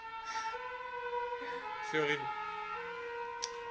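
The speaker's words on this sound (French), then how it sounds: "je suis à côté d'un hôpital, là c'est une ambulance" An ambulance siren near a hospital, a steady wailing tone at moderate distance, heard faintly under a person talking.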